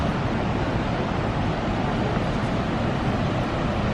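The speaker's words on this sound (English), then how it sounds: "we have finally made it to KHONE PHAPHENG waterfall" Khone Phapheng waterfall, the largest in Southeast Asia, gives off a loud, steady roar of rushing water. The dense, unbroken wash of sound fills the whole stretch with no pauses.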